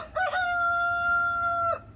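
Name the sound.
rooster crowing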